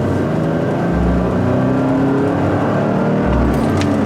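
A red manual pickup truck accelerates with a loud, steady engine drone from inside the cab, with low rumbling swells as it pulls through the gears, no talking.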